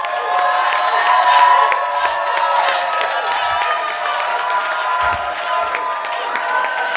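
A large Montreal audience applauds and cheers for Livin Poinfouet, dense steady clapping with shouts and whoops filling the hall throughout.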